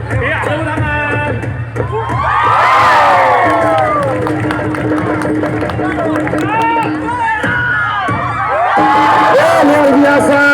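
A large outdoor crowd cheers, whoops and claps at a Nias stone-jumping event in Indonesia, a loud, dense roar with shouting voices throughout and swelling bursts of excitement.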